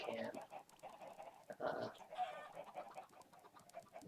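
Minecraft chickens on a game farm clucking in short, repeated bursts, moderately close, with someone briefly speaking over them.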